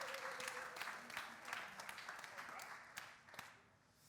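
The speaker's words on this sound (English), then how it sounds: "Can everyone give Turil a big round of applause?" A conference audience applauds a volunteer coming on stage: quiet, scattered clapping with sharp individual claps, mixed with voices talking over it, fading slightly toward the end.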